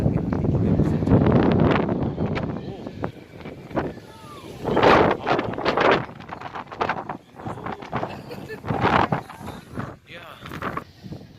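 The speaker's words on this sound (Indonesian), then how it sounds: "Anginnya sangat kencang." Strong wind on Mount Tabor buffets the microphone in roaring surges that rise and fall, loud and close, while a person talks at intervals.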